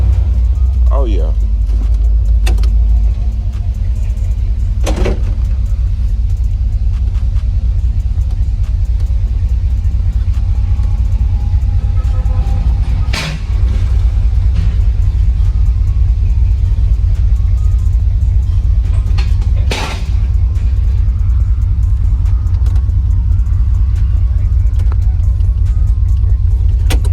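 A car engine with a newly fitted exhaust rumbles loudly and steadily at idle close by, a deep continuous drone broken by a few sharp clicks and knocks.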